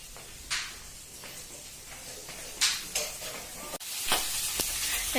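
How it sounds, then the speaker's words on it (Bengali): Curry of tangra fish and yam sizzles and fries in a pan at a moderate level, with a few sharper scraping stirs and clatters breaking through the steady hiss. "মা রান্না করছে দুপুরে ট্যাংরা মাছ দিয়ে মেটে আলু দিয়ে তরকারি হবে"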